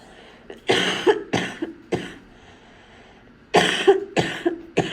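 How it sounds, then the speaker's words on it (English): Several harsh coughs come in two clusters, close and loud, separated by a short quiet pause. "I'm sorry for my cough."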